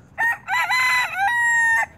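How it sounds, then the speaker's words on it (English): A red rooster crows nearby, loud and clear, in one drawn-out call broken into several strained segments, with no talking over it. "He's a cool rooster, man."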